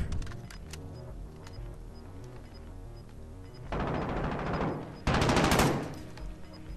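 Gunfire in the battle royale game Warzone, rapid bursts that come on loud around the middle and again near the end, over a low rumbling background.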